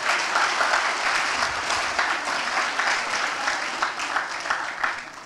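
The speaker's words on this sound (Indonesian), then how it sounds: "Tepuk tangan dulu buat Polewali Mandar." Steady, dense applause from an audience at a stand-up comedy show, with brisk, close clapping that stays strong throughout and fades slightly at the end.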